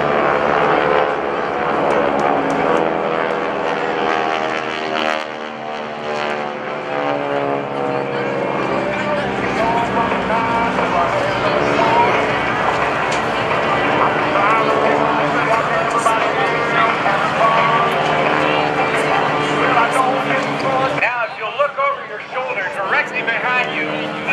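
GEICO Skytypers planes fly overhead at the 2015 NAS Oceana airshow, a continuous loud propeller drone that rises and shifts, while an announcer talks over the public address throughout.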